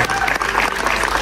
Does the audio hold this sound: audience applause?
yes